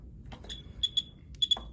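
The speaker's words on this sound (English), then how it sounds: "Let's pull out the Geiger counter." A Geiger counter near a mildly radioactive sample gives sparse, irregular clicks and short bright beeps, about six separate pulses close by over a quiet background.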